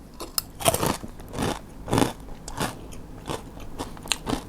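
Close crunchy bites and chewing of rice mixed with crispy pork rind chili paste, served with a fried egg; irregular crisp crackles and munching, loud and near, with no talking.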